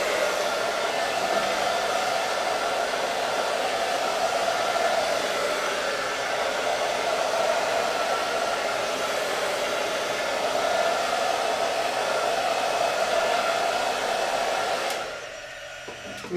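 Hair dryer blowing to dry a chalk craft project, a loud steady whooshing hum held without a break before cutting off near the end.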